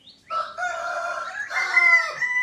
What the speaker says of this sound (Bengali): আস্তে আস্তে দেখাচ্ছি মুরগিগুলোকে।